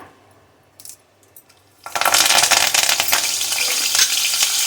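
After a few faint clinks, cardamom, cinnamon, clove and curry leaves drop into hot oil and burst into a loud, sustained crackling sizzle that keeps going close up.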